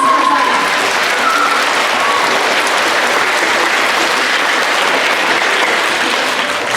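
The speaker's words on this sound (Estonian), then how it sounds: "Teeme ühe suure aplausi vastu." A crowd at an outdoor children's folk heritage day in Mulgimaa, Estonia, claps loudly and continuously, a dense, even wash of applause with faint voices mixed in.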